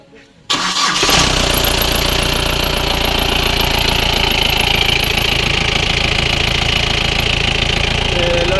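A motorcycle engine kicks into life and then settles into a loud, steady idle with a dense, rough mechanical rumble that stays constant and close for the rest of the clip.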